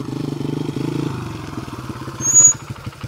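A 100cc dirt bike engine chugs and revs on a steep hill climb, its pulsing putter close and loud, slowing and rising to a brief louder surge near the end.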